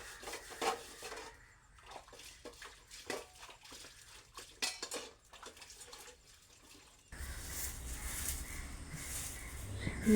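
Dishes washed outdoors on a stone grinding slab, with scattered clinks and scrapes of pots and utensils and splashes of water, followed by a steadier run of water toward the end.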